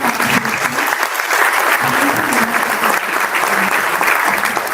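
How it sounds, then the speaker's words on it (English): A large audience at an annual awards day ceremony applauds steadily, dense continuous clapping with faint voices mixed in beneath. "Big round of applause for this"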